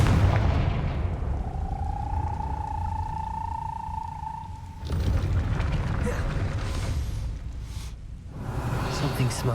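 A Confringo fire spell cast in Hogwarts Legacy during a dungeon run, heard as a sustained whooshing tone for a few seconds, then a loud booming burst followed by rumbling impacts over background game ambience.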